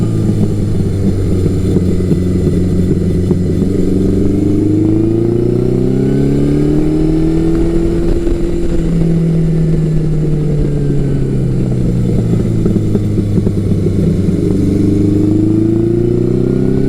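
Yamaha XJ1100 Maxim motorcycle with progressive springs riding on Pennsylvania back roads, its engine loud and close, rising and falling smoothly in pitch through braking and corners, with no talk.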